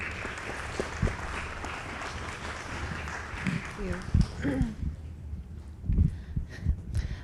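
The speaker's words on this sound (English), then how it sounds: "if everyone could please give a big round of applause to Ivy Max here" Hackathon opening ceremony crowd claps for a sponsor, moderate applause under a low rumble, tapering off after a few seconds as a voice and microphone bumps take over.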